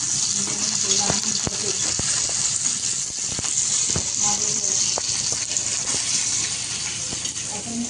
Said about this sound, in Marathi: मिरची आणि लसूण भाजून घ्या.